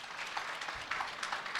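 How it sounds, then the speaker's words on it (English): Moderately quiet audience applause at a university Vice-Chancellor's Excellence Awards ceremony, a steady dense patter of many hands clapping. "Can we give that a round of applause?"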